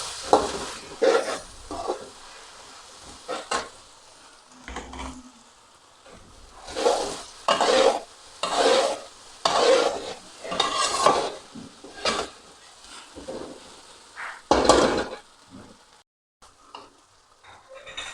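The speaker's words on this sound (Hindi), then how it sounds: "प्याज और मिर्चें हमारी फ्राई हो गई हैं" Onions and green chillies frying in a pan, heard as rhythmic bursts of stirring and scraping with a light sizzle underneath, the spatula strokes loud and close with short pauses between them.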